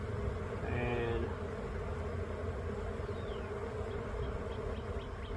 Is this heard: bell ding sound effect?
no